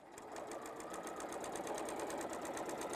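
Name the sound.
sewing machine stitching a quarter-inch seam on a pillow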